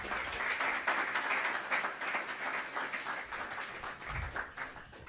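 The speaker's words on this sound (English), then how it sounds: "A round of applause for our speakers." Audience applause for the speakers at a business growth event, steady dense clapping from a crowd that fills the whole stretch at an even level, with no talk over it.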